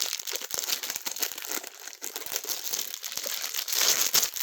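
Plastic or foil packaging for a challenge medal being torn and crinkled open by hand along its seam, a close, continuous crackling rustle with irregular sharp crunches and no talk.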